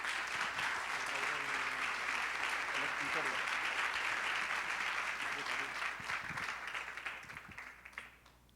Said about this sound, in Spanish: si os parece le damos un aplauso de bienvenida